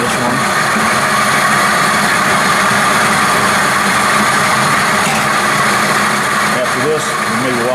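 A Kasto SSB 260 VA production vertical band saw runs through a material feed, giving a loud, steady, unbroken industrial drone with a dense motor hum and no clear breaks.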